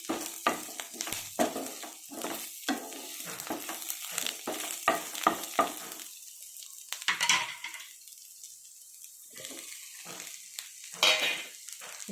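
Bitter gourd pieces fry with onions in a pan, quiet scraping stirs and bursts of sizzle coming in uneven clusters, with pauses and a few light clinks of utensils.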